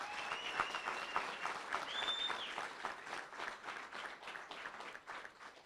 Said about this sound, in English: Give her a big round of applause, Mrs. Biancari